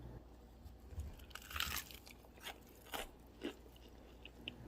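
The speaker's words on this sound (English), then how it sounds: "Can we get a thumbs up for that crunch?" Crunchy air-fried chicken wing flats coated in tapioca flour and cooked in a Ninja Foodi Grill Pro are bitten and chewed close up, giving several crisp, brittle crunches in a quiet room.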